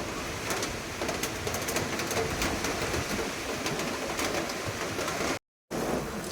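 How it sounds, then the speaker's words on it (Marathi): Steady, dense hiss of heavy rain pouring down continuously, with a brief moment of silence near the end. "खूप जोरात पाऊस आला"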